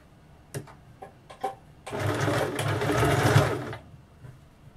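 Sewing machine stitching a blouse seam, a few short clicks and taps followed by a steady two-second run of fast, even stitching close up, then stopping.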